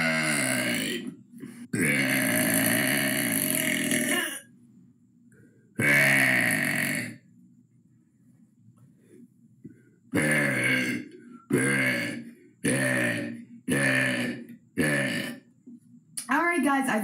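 A man lets out a string of loud, drawn-out burps close to the microphone, some long and croaking and others short, with silent gaps between them.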